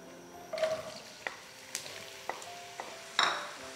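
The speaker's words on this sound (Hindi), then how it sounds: "ऑयल हमारा गर्म हो चुका है, तो अब इसमें हम कटे हुए प्याज डाल देंगे।" Chopped onions drop into hot oil in a pan and fry with a soft sizzle, broken by a few sharp stirring clinks of a utensil against the pan.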